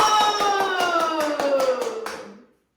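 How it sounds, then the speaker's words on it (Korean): A children's worship group at a Sunday kindergarten service claps hands in celebration, a run of steady, evenly spaced claps over a ringing sustained tone that fades away at the end. "축하하면서 박수 쳐볼까요?"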